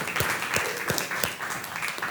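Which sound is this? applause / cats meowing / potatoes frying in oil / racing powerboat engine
applause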